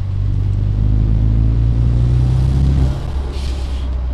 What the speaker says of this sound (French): qu'on relâche la pédale, on entend les turbos